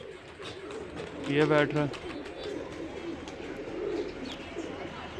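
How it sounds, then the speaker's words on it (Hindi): A pigeon in a large flock gives a short rolling coo up close as birds land and settle on a perch, over a low background murmur while someone talks. "ये देखिए कबूतर ऊपर आके बैठ रहे हैं"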